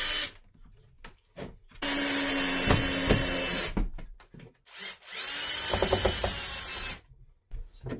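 A power drill driving a screw into a wooden beam, two long close whirring bursts with a few short trigger pulls between them and brief pauses of quiet.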